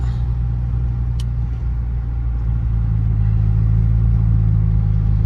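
A 400 HP Chrysler 300 Hemi idles steadily at a red light, a deep, loud exhaust drone that swells slightly toward the end.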